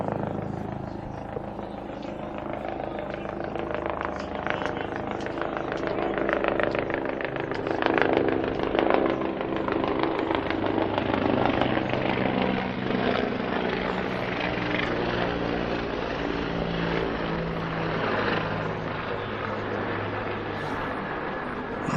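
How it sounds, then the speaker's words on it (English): Helicopter flying overhead during the official flyover at a European Baseball Championship game between Croatia and Ukraine, a steady rotor and engine drone lasting the whole stretch, swelling slightly in the middle, moderately loud against open-air ballpark ambience. "Some aircraft hovering overhead. You can hear it in the distance."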